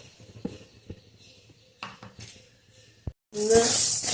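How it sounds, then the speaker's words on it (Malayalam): Urad dal is roasted in a kadai until golden: scattered clinks and scrapes of a utensil against the pan, then a loud burst of sizzling frying noise near the end. "കടായിലിട്ടിട്ട് ഒരു ഗോൾഡൻ കളർ ആവണ വരെ വറുത്തെടുക്കുക"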